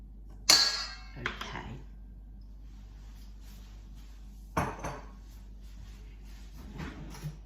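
A spoon scrapes and clinks against a bowl while golden syrup is measured out for gluten-free ginger biscuits. There are a few sharp, separate knocks and scrapes with quiet gaps between them.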